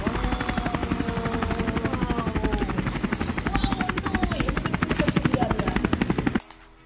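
A toy fighter helicopter's rotor chops in a fast, even pulse close by, running steadily before cutting off abruptly near the end.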